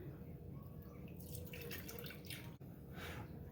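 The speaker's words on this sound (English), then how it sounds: "strain this through this sieve" Liquid strained through a sieve gives a steady, faint patter of drips and trickling, continuous and close, with a soft clack partway through, during sourdough preparation.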